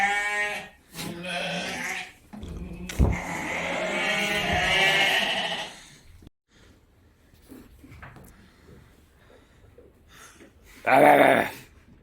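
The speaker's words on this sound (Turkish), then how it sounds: "Kuzular şu anda yemlerini yiyor." Lambs bleat loudly in overlapping calls, then quieter munching of feed and shuffling sounds follow before another sharp bleat near the end.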